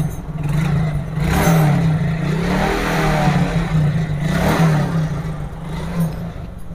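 A Hero Glamour FI motorcycle engine runs right after starting, with its carburettor, CDI coil and petrol tap refitted. The close, steady idle hum rises briefly into revving and then settles back, with no talking.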